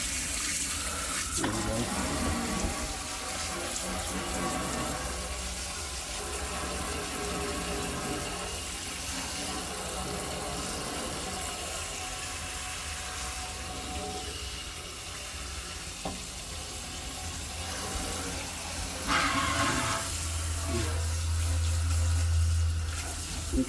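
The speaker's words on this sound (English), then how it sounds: "And now I gotta try to get the sprayer." Water sprayer running steadily while rust is washed off railroad parts, a continuous close rushing spray with brief shifts in intensity, and someone speaks briefly near the end.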